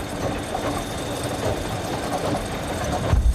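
An escalator's electric motor drives through a reduction gearbox, giving a steady close mechanical hum and rumble with a faint whine that runs unbroken, ending in a louder low thump.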